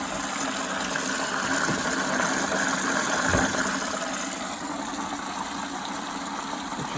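A leaking Samsung Ecobubble washing machine fills with water on the pre-wash side, continuous rushing water against a steady mechanical hum, a constant even wash of sound with one brief low thump partway through.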